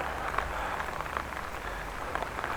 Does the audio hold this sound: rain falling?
yes